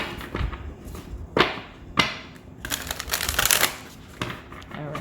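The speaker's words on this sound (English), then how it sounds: "We'll get another good shuffle, and we'll adjust." A tarot card deck being shuffled by hand, giving repeated sharp riffling bursts and papery flutters at close range, with brief pauses between the shuffles and no talking.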